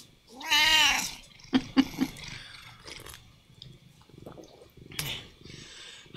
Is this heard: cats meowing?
yes